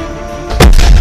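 A single loud, heavy gunshot boom bursts in from a dubbed action film, a sudden deep blast that stays loud to the end after a quieter lead-in.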